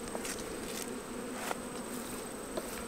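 Honey bees at an open hive in summer keep up a constant buzzing drone, with a few individual bees whizzing past close by.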